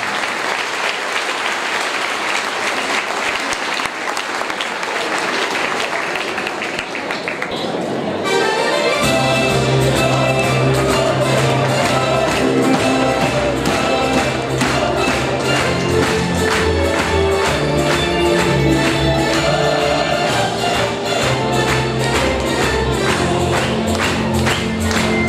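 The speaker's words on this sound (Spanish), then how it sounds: "este es el aplauso para comenzar con una noche sensacional" A room full of diners at an Italian club's anniversary dinner claps loudly and steadily, with dense sustained applause filling the room after a brief lead-in of muffled crowd noise.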